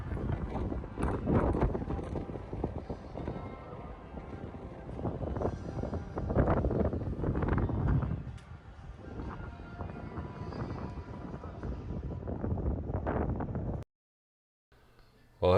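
Gusting wind on the sunny rooftop of Barcelona Cathedral, a loud, rumbling buffeting across the microphone that rises and falls steadily before cutting out near the end.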